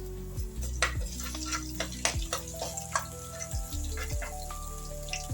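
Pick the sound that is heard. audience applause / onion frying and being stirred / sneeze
onion frying and being stirred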